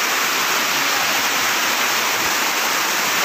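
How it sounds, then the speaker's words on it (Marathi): Waterfall at Upale village, a natural cascade on the edge of the village, roars in a constant, loud, close wash of falling water with no pauses and no talking. "हा तो सुंदर असा धबधबा"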